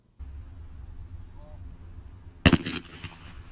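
A single loud shotgun blast at a gun club shooting line, sharp and close, followed by a brief echoing tail after a steady low background hum.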